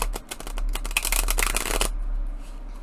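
A thick, high-gloss, slippery tarot deck from the Tarot Z line is riffle-shuffled close up, giving a rapid run of crisp flapping clicks that ends abruptly, leaving a steady low hum underneath.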